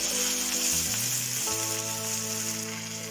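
Garlic and curry leaves fry in hot oil in a pan, a bright, constant sizzle up close under background music, steady and loud throughout before easing slightly at the end.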